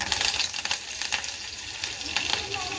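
Mustard seeds crackle and pop in hot oil while dal is being tempered, giving a steady sizzle dotted with quick sharp snaps throughout, with no talk over it.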